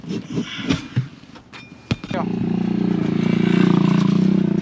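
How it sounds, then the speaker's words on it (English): Talk and scattered clatter at a camp in Bolivia give way to a steady, droning motorbike engine that rumbles on loudly for the rest of the clip. "I can hear a motorbike."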